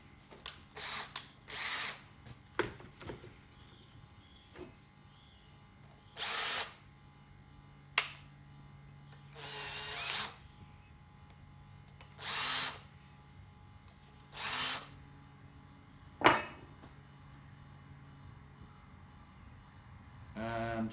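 A power drill with a countersink bit deburrs holes in short separate bursts, about eight whirring runs of a second or so each, separated by quiet pauses.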